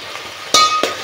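Tomatoes dropped into a hot pan while cooking avarekalu uppittu give a couple of sharp clinks and sizzling bursts over a low background hiss.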